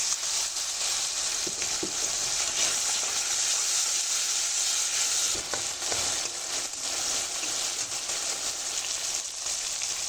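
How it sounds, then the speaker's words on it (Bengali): Oil bubbles hard around a fried spice paste of turmeric and dried chili powder in a pan, with a small splash of water added, while cauliflower curry with fresh rohu fish is being cooked; a steady, close sizzle and hiss runs throughout with scattered stirring clicks. "মশলার থেকে তেলটা কিন্তু খুব ভালো করে ফুটছে"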